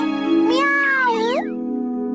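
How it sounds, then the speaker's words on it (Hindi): A cartoon cat lets out a single drawn-out meow with a bending pitch, loud and close, over a steady sustained background tone. "अरे ये तो वही बिल्ली है।"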